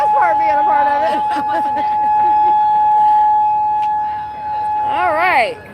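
A weather warning siren sounds steadily during a practice drill, holding a long tone that swells and warbles near the end, loud and continuous while people talk over it.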